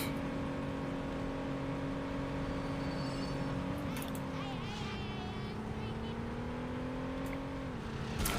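Fast car driving in Saints Row: a sustained engine tone holds steady, dips as the car slows, then climbs and drops off again near the end, with faint scraping and whooshing on top.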